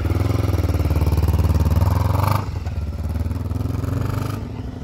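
A Kawasaki KLE250 Anhelo motorcycle engine throbs loudly nearby on a test ride, revving steadily, then dropping to a lower rumble before picking up again.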